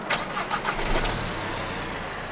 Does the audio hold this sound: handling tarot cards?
no